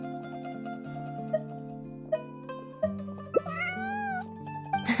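A cat meows in Genshin Impact, rising and falling mews over steady background music with sustained tones, fairly clear, with no talking.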